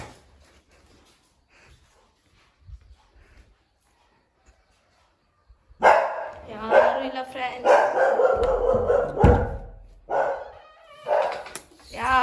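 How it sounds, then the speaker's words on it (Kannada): A dog at a village house barks in short bursts after several seconds of near silence, the barks mixing with a person talking nearby. "ನಾಯಿ ನೋಡ್ರಿ ಫ್ರೆಂಡ್ಸ್ ಎಷ್ಟು ಚೆನ್ನಾಗೈತೆ."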